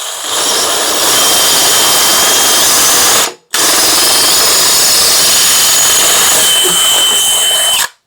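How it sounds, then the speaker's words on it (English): A power drill whines steadily at close range drilling a hole while installing a Frantz oil bypass filtration system, stopping briefly in the middle before running again, then cutting off at the end. "let me finish drilling this hole"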